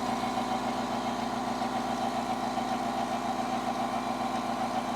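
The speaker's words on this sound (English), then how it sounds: "Turn on the compressor." An air compressor running in a workshop, a steady close droning hum with a low throbbing pulse that holds even throughout, no voices.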